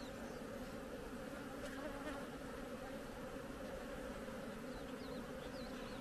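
Honey bees buzzing at a hive during queen rearing, a continuous, even droning hum that stays faint and steady throughout with no voices.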